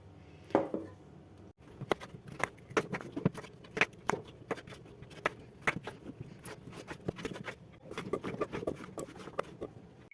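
Knife chopping pumpkin for pumpkin soup, a steady run of sharp, close cuts striking a board with a few brief pauses, no talk over them.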